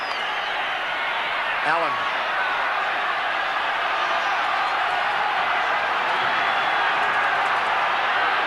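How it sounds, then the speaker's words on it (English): Spectators at a 1990 Winfield Cup rugby league match between the Brisbane Broncos and Newcastle Knights keep up a loud, continuous roar of crowd noise, with a commentator talking over it throughout. "The crowd love that sort of stuff."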